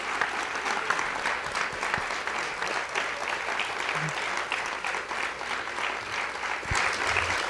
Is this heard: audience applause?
yes